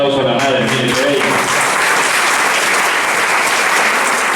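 An audience at a religious talk bursts into loud, dense applause right after a voice speaks briefly at the start, the clapping then continuing evenly to the end.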